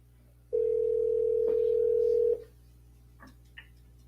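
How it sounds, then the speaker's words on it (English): A telephone dial tone plays as a call is placed, a single steady, clean tone lasting just under two seconds before it cuts off, followed by faint clicks and quiet room background. "Ben, we're getting ready to phone you up, home slice."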